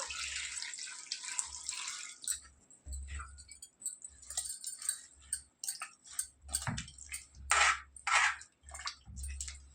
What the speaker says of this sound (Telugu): ఇప్పుడు వాటర్ పోసుకుందాము